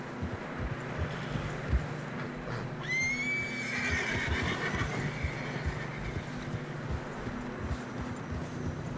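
A horse gives one loud, clear whinny partway through, over steady wind noise and soft plodding hoofbeats through snow in the video game Red Dead Redemption 2.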